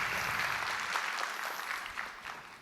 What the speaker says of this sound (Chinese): 给 VV 一个掌声。